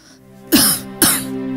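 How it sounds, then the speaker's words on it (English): Two sharp, loud coughs about half a second apart, close to the listener, over a low steady hum. "one day while she was working, she started coughing up blood."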